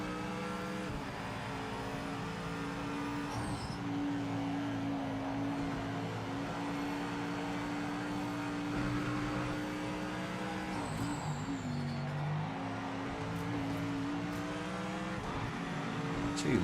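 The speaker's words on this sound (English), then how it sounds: "I want to start driving the GT500 and the tyres are cold in this" A GT500 race car on cold tyres in the Project Motor Racing game, its engine droning at steady high revs, briefly dipping and climbing again through gear changes.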